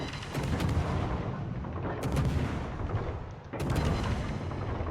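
Naval guns firing at a New Mexico battleship in World of Warships, from an Akizuki destroyer: loud, dense booming salvos under constant rumbling battle noise, with sharp volleys at the start, middle and near the end.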